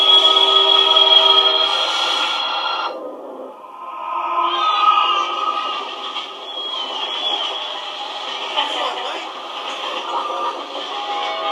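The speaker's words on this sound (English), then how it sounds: "Waiting for a train to pass might cost you a few minutes of your time." A train rumbles past with a sustained metallic hum and squeal that shifts pitch partway through, loud and close, with no talking.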